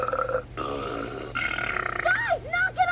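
Cartoon characters take turns belching loudly from the diaphragm in a burping contest, several long, throaty burps with rising and falling pitch following one another closely and up front.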